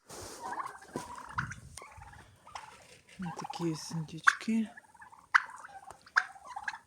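Turkeys gobble in several rapid, warbling bursts nearby, with a person speaking briefly in between.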